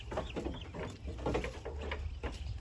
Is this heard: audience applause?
no